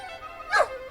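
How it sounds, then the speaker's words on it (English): A single short, close bark or yip from a dog in Gibbous: A Cthulhu Adventure, a brief higher-pitched yelp rising over a quiet background. "Oh my god, a barking cat! He's not a cat, he's a dog!"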